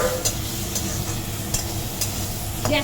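Small cut tomatoes cooking in a pan with no oil over low gas, a soft steady sizzle with several sharp scraping strokes of a spoon stirring at intervals, close and without talk.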